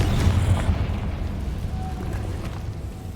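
A Confringo fire spell bursts in Hogwarts Legacy, a loud, rumbling blast with a deep low boom that decays steadily over about three seconds.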